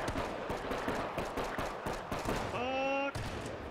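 Shotgun fire in a first-person video game, a rapid string of sharp blasts with brief gaps, followed by a short tonal electronic chime near the end.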